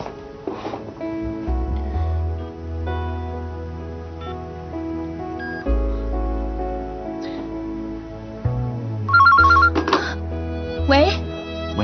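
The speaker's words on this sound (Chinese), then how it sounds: "夏先生，我想打个电话。" A mobile phone rings out as a call is placed, with a ringing tone briefly cutting through a sustained, swelling music score in a TV drama scene; no one talks.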